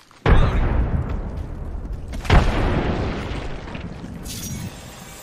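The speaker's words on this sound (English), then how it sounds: "Tossing grenade." A grenade in the shooter game Apex Legends goes off with a sudden, loud boom and a rumbling tail, and a second heavy blast follows about two seconds later before the noise fades into a lingering roar.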